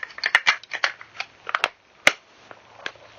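Back of a Nikon F film camera being closed by hand, giving a run of small sharp metallic clicks and snaps, several close together, then one louder distinct click, nearby with no voices.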